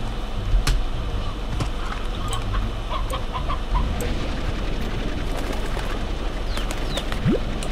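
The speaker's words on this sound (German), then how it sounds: "Gockel sind hier unten." Roosters in the video game Slime Rancher give soft, scattered clucks and coos over a steady ambient wash, with sparse tapping clicks and a brief rising chirp near the end, faint and fairly distant.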